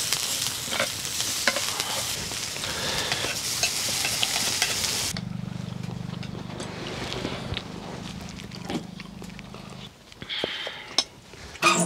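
Rice with salt being stirred and cooked over a wood fire during winter hot-tent camping: close scraping and stirring against a pot over a hissing, sizzling background, with a hum and a few knocks later.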